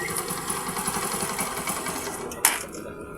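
A TMX 125 motorcycle engine, just fitted with a converted 4-pin CDI, runs after a kick start with a steady, buzzy idle throughout, plus a brief sharp clack near the end, close up with no talking.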